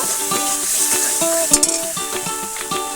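Spiced masala with coconut paste being stirred in a pan for a prawn malai curry, with a steady sizzle under repeated scrapes and light metallic clinks of the spoon against the pan.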